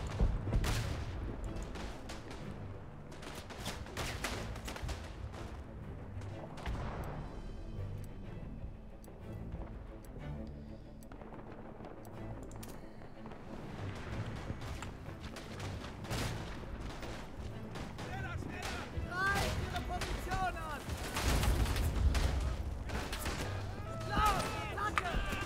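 Gunfire in a World War One video game: dense volleys of rifle shots and booming blasts roll on continuously, with voices at times over the din.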